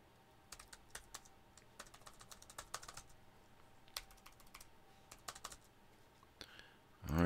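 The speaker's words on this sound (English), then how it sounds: "If I can type, it would help." Typing on a computer keyboard, a steady run of light, irregular key clicks close by, followed by a brief louder burst at the end.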